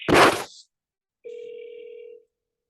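A telephone on speakerphone, after a 1-800 number is dialed, gives a short noisy click burst, then a pause, then a single steady ring tone lasting about a second.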